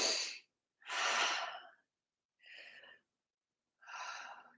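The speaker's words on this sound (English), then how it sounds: "10 deep breaths" Deep breaths during a qigong session: four slow, breathy inhales and exhales, the first two loud and full, the later two softer, separated by short silences.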